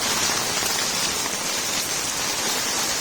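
Steady rain falling on a rainy day, a dense even hiss of drops pattering on surfaces, close and constant throughout with no voices.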